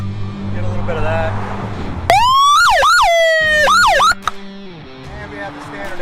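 Police siren from a Davie Police Department Harley-Davidson Road King motorcycle, loud and close, rising into a wail and then switching to rapid yelping sweeps for about two seconds, with talk and idle noise before and after.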